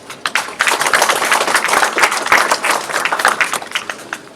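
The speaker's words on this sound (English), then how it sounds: "One more round of applause" Wedding reception guests applauding the bride and groom, a dense, steady burst of many hands clapping close by, sustained for several seconds with no talk over it.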